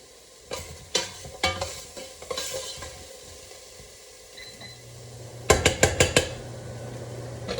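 Garlic and onion sautéing in a soup pot for green lentil soup, a low sizzle under repeated spoon clinks and scrapes against the pot, ending in a quick burst of metallic taps, with no voices.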